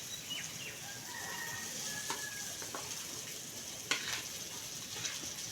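Mashed boiled potato being stirred with onions and turmeric in a pan, a soft, faint scraping and gentle sizzle with a few light clinks, no one talking.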